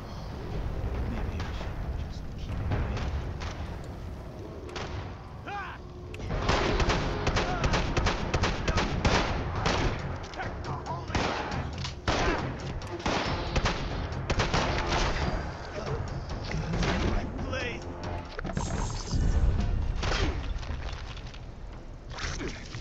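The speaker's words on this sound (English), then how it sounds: "Who's still shooting at me?" Gunfire aimed at the player in Fallout 76 crackles through a firefight, with dense volleys of rapid shots and bursts coming in waves over a rumbling game backdrop and a voice talking now and then.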